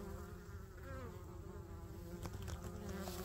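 Honeybees rob a single hive while defenders fight the robbers at the entrance, making a dense, steady buzzing swarm drone, close and continuous throughout.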